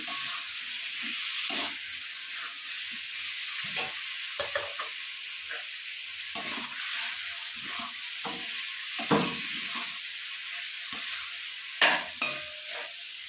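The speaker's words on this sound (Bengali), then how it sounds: "আবারও ভালোভাবে নাড়াচাড়া দিয়ে নিচ্ছি।" Fried potatoes are stirred with fish head in a sizzling frying pan, a steady hiss broken by repeated scraping clatters of the spatula against the pan, fairly quiet and close.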